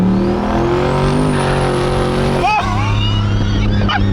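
GMC Sierra pickup truck with a newly fitted turbo accelerating hard, a loud close engine roar with a rising whine that sweeps upward and then shifts pitch, with a voice calling out partway through.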